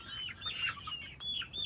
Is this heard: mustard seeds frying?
no